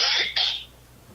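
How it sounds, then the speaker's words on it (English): Two quick throat-clearing coughs from a person at a county commissioners meeting, close and abrupt, fading into room quiet. "Sorry, I coughed."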